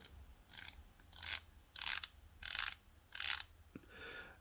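Seiko Monster dive watch bezel being turned by hand, giving five short, crisp ratcheting bursts in a steady rhythm, close and fairly quiet, followed by a faint softer rustle.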